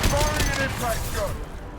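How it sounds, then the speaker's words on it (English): An impact shot goes off in Mass Effect 2, a single heavy gunfire burst at the very start that rolls into a dense, booming tail lasting under two seconds. "Firing an impact shot!"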